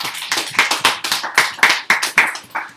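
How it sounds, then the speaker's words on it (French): A church congregation at a French-language service claps hands in a close, rhythmic pattern of sharp, evenly spaced claps for nearly three seconds, with no talking over it. "Applaudissez le Seigneur."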